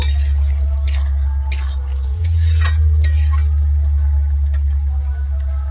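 A spatula works sugar into green tomato jhal in a pan, giving rhythmic scraping strokes and soft clinks over a gentle sizzle, with a steady low hum underneath.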